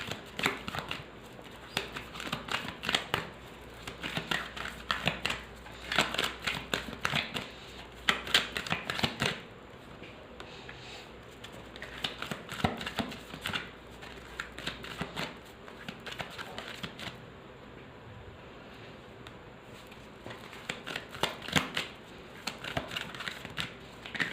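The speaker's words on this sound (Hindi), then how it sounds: "चलिए कार्ड्स क्लियर कर लेते हैं, फिर देखते हैं।" Tarot cards are shuffled and cleared by hand in a long run of quick riffling, flicking card sounds that come in bursts with short pauses, close and fairly loud, with no talking.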